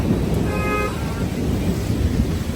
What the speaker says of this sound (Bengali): বিশাল জোর হচ্ছে বৃষ্টি।